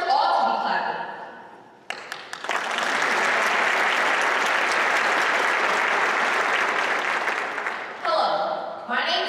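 An audience at a Martin Luther King Jr. birthday celebration in Milwaukee breaks into loud, sustained applause. A voice is heard briefly before it begins, and talking resumes as the clapping ends.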